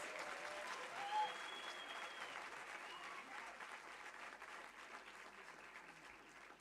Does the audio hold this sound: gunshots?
no